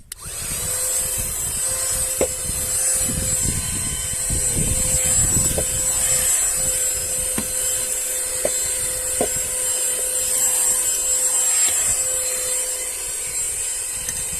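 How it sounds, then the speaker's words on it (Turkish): A small rechargeable handheld car vacuum cleaner runs continuously while sucking up dirt, a close, loud motor hum with a high-pitched whine and scattered clicks of debris, with no talking. "Süpürgemiz bayağı bir e, güzel süpürüyor arkadaşlar."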